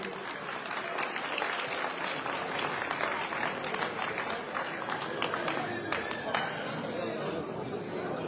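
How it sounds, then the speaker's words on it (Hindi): Crowd applause at a gathering welcoming an election winner, dense clapping and chatter from many people sustained throughout at moderate distance. "एक बार फिर जोर से तालियां"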